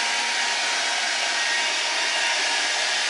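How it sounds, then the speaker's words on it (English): A hair dryer blows steadily during puppy grooming of an Australian Shepherd, a loud, constant airy whoosh with no variation and no voices over it. "I make sure my hand is always in front of where the dryer is going."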